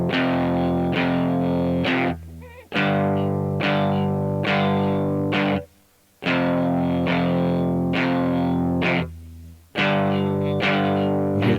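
Palm-muted distorted electric guitar plays chugging rhythm chords in repeated bursts, with short gaps between phrases, loud and close with no talking.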